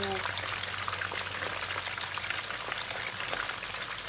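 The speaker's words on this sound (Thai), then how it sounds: "เราก็ทอดปลาสลิดกันนะคะ" Snakeskin gourami frying in oil, a dense steady crackle and sizzle holding at one level throughout, close up, with no clear voice over it.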